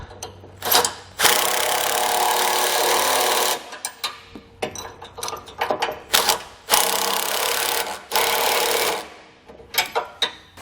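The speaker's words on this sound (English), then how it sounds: "we can come back and tighten down the bolts here remaining on the side" Bolts are tightened on a Roadmaster base plate kit fitted to a 2015 Ford Explorer: loud close bursts of a power tool whirring in several long runs, alternating with short rattling taps and clanks between bursts.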